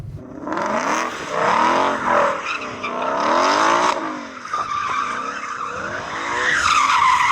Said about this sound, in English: Do you want to warm up your tyres in the AMG?